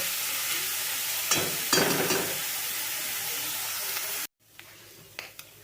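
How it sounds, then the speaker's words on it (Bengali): Small kachki fish fry in oil on a low flame, giving a steady soft sizzle with brief stirring bursts, then a sharp cut to a quieter hiss. "আমি কিন্তু দু তিন মিনিট ধরে এটাকে ভেজেছি লো ফ্লেমে"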